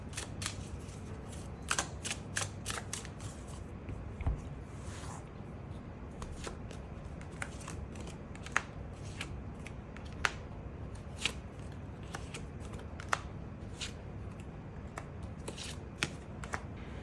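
Tarot cards are shuffled and drawn in a steady run of soft papery slaps and flicks, close and quiet, over a low steady room hum.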